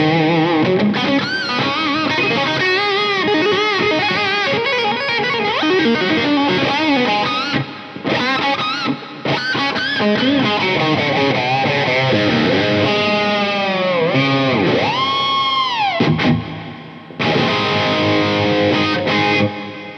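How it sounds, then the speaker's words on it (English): Distorted electric guitar drenched in heavy reverb, sustained chords and bending lead notes ringing out, with brief pauses where the echo tails decay. "that's the awesome juggler reverb"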